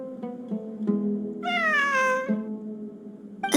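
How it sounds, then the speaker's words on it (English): In the Genshin Impact video game, a cat gives a single drawn-out, rising-then-falling meow, close and clear, set against a sustained musical drone. "It really is a cat."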